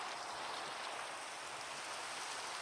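Steady rain falls in a cozy cottage video game, a soft, even hiss of drops pattering with no break, faint and alone with no voices.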